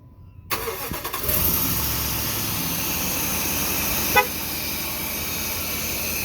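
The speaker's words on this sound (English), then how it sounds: "Okay, and I will start the vehicle." A Dodge Ram 1500 pickup starts up: a sudden crank and catch about half a second in, then a steady mid-pitched engine idle carrying on, with one brief horn-like chirp partway through.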